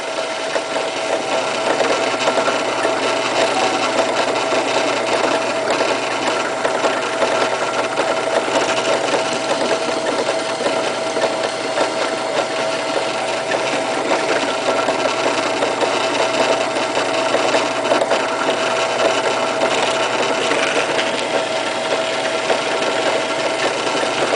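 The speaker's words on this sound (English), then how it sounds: "we're going to go and drill out each one of these holes" A drill bores holes through aluminum levers set on a wood backing, giving a continuous steady motor whine with a buzzing grind that holds level throughout.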